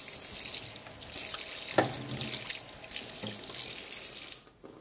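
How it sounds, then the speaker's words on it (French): Hot tap water runs steadily over a kitchen knife blade while a foie gras terrine is being unmolded, making a close, continuous splashing hiss with small shifts as the blade moves under the stream. "La petite astuce, c'est de passer sous l'eau chaude la lame de mon couteau."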